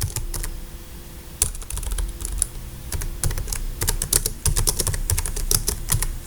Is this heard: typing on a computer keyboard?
yes